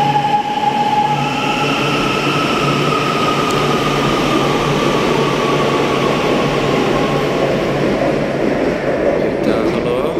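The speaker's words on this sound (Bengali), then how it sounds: "এটা হলো মেট্রো রেল" A metro train rolls past in a Chinese city, a loud, steady rumble of wheels and cars with thin high squealing tones riding over it for the whole stretch.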